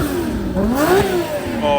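A Ferrari F50 engine revs outdoors, rising in pitch and then falling back over a second or two, with wind noise around it. Someone speaks briefly.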